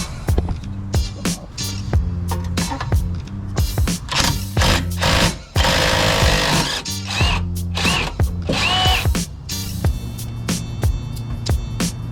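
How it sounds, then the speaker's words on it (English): A jack lifting a car's strut and shock assembly during a strut install: rapid, repeated ratcheting clicks and mechanical clatter, loud and close, broken by a brief louder grinding burst midway, with no talk. "Put a jack lift up the shock, lift up the whole assembly."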